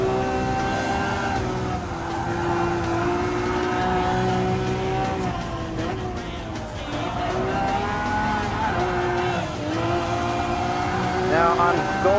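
Lamborghini Aventador racing engine in the video game Gran Turismo Sport, a steady loud droning engine tone that rises and dips through gear changes, with a voice talking over it throughout.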